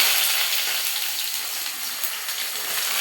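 Chopped onion frying in hot oil with dried red chillies, a loud, bright, steady hiss of sizzling fat close up, easing slightly then holding constant.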